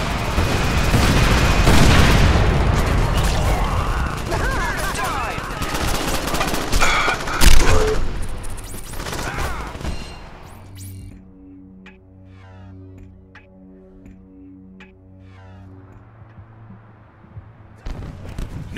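Gunfire in the Crackdown video game: a loud, dense barrage of rapid shots and booming blasts for about ten seconds, then quieter game tones with scattered single shots.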